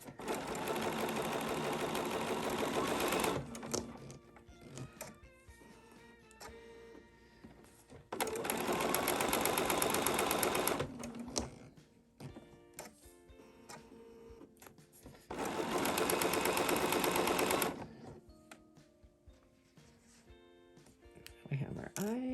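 Sewing machine chain piecing small quilt pieces, heard in three loud, steady bursts of rapid stitching a few seconds long. Quieter gaps between the runs carry faint clicks and handling.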